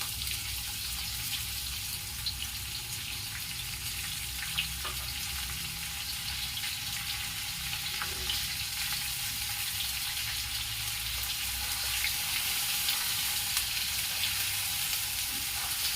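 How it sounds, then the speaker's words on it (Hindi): Onions frying on high heat for a Bihari-style egg curry, a constant dense sizzle of hot oil throughout, steady and close with no talk. "अब मैं इसमें गैस को तेज करके प्याज डाल दूंगी"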